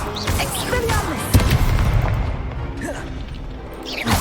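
A spell impact in the Hogwarts Legacy video game: a dense burst of combat effects with a heavy thump and boom, whooshing swishes and crashing, loud and close, with a voice briefly mixed in.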